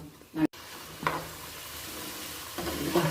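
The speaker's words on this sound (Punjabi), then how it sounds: "ਫਰਾਈ ਹੋਣ ਲੱਗ ਪਈ ਆ" Chunks of taro (arbi) fry in a pan, giving a soft continuous sizzle with a few brief clattering stirs and scrapes, fairly quiet and close, with no talk over it.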